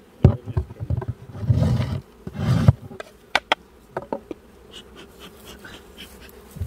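Honeybees buzz in angry bursts as a broom sweeps them off the top of a hive. Loud irregular swells of buzzing alternate with sharp knocks and brushing noises, close up.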